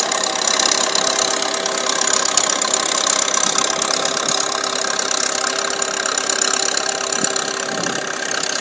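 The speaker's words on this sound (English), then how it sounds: "Block sounds lovely. That tractor." An old Fordson tractor engine runs steadily nearby while ploughing, a loud, even mechanical chug with a rattling, knocking texture throughout.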